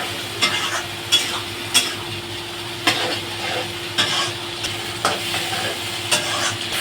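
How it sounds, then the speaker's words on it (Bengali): Spice paste for rohu fish curry is stir-fried under a constant sizzle, and a spatula scrapes and knocks against the pan in regular strokes about once a second. "ভালো করে সব আমরা একসাথে করে কষিয়ে নিচ্ছি।"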